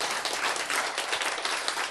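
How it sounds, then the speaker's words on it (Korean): An audience at a lecture breaks into a short burst of applause, dense and fairly close clapping that stays at a steady level with no speech over it. "박수"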